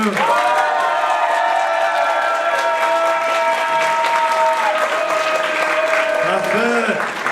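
Audience at a cosplay contest clapping steadily and cheering for a contestant, with a sustained tonal sound held over the noise and voices speaking over it near the end.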